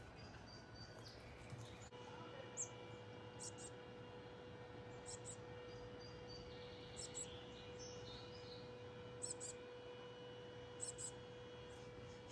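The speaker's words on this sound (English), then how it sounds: "we're gonna be quiet and see if we can hear the birds" Faint garden bird chirps come and go over a steady low outdoor hum, the calls brief and scattered, with a distant background drone throughout.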